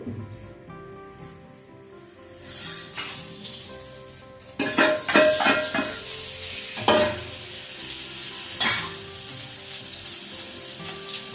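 Fenugreek seeds, mustard seeds and asafoetida frying in hot oil for a raw tamarind chutney, a steady sizzle with bursts of crackling spatter and occasional utensil clinks, close and alone.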